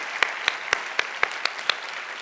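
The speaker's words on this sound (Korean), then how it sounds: "새신자분들을 향해서 환영의 박수를 좀 보내주시면 좋겠습니다" At a Korean university-group Sunday worship service, the congregation claps in unison to welcome newcomers: about seven crisp, evenly spaced claps in a steady beat, standing clearly above a quiet room.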